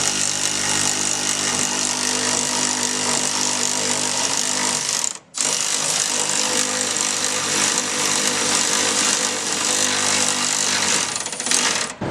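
A power tool runs almost continuously while tightening track bar bolts on a 2018 Ford F250 with a 2.5 inch lift. Its loud buzzing drone stops briefly once midway, then resumes close up.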